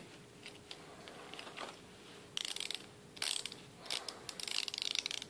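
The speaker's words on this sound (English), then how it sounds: "You want me to wind it up?" Rapid ratcheting clicks of a small wind-up toy chick being wound by hand, coming in several short bursts separated by pauses, close and fairly quiet over a soft room hiss.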